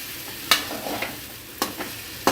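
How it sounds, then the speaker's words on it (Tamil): Egg kothu parotta frying on low flame as masala is stirred in, a soft steady sizzle broken by a few sharp scraping clinks of a spatula against the pan. "இப்போ நல்லா அந்த மசாலாலாம் மிக்ஸ் பண்ணிக்கலாங்க."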